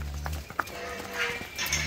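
Cattle, cows and calves walking out to a field, hooves clopping on hard ground in an uneven rhythm close by, with a brief sharp knock and light background noise.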